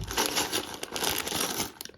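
Close, loud crinkling and rustling of plastic bags holding LEGO pieces, a continuous crackly handling sound with brief sharper crackles as the bags are squeezed and opened.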